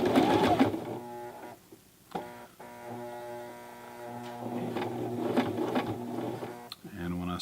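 A Toyota FSG325 sewing machine stitches a jeans hem, its steady motor whir and needle clatter running continuously at close range beneath a voice talking throughout.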